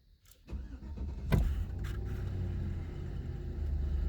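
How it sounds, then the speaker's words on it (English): A Chevrolet Tahoe's engine cranks and catches with a sharp onset, then settles into a steady low idle rumble, close and continuous with no talking. "I'm gonna quickly cycle the car on."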